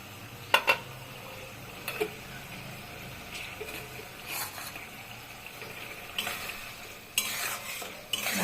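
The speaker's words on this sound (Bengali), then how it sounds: "মশলাটা অনেক কষাতে হবে" Egg curry masala of cumin, coriander and ginger fries on a low gas flame while a utensil stirs and scrapes the pan, making repeated clinks and soft sizzling in bursts over a steady background.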